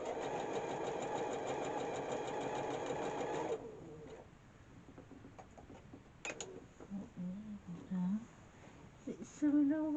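A sewing machine runs close and steady, stitching a fiddly piece with a fast, even mechanical whir. It stops abruptly after a few seconds, leaving quieter handling sounds and a voice speaking.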